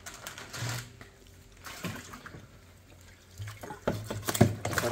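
Mud crabs placed into cold water in a kitchen, with close splashing, sloshing and clattering shell knocks in irregular bursts, fairly quiet.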